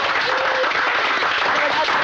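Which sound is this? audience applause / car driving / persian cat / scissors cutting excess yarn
audience applause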